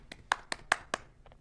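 Sparse clapping in a nearly empty room: five crisp hand claps in an even rhythm, then two softer quick claps, close and isolated against quiet.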